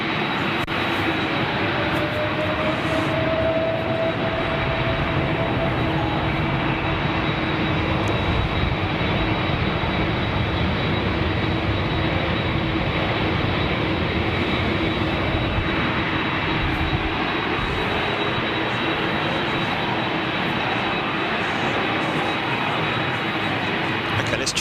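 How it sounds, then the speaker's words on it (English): Loud, continuous roar of big jet aircraft engines at an airport, a broad steady wash of noise filling the whole stretch with no break, while people talk faintly underneath. "Lots and lots of engine noise."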